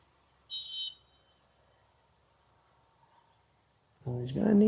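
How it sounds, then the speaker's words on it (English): A handler's sharp whistle blast to a retriever at a field trial, one short shrill tone near the start over quiet outdoor ambience, followed later by a commentator speaking. "And an early whistle before the water here."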